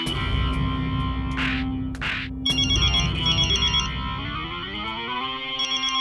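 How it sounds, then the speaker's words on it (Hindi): A phone ringtone rings loudly through a comedy scene from the Indian TV sitcom Taarak Mehta, a repeating electronic melody with a couple of brief whooshing effects, continuous across the whole stretch. "अरे बाप रे, किसका फोन है?"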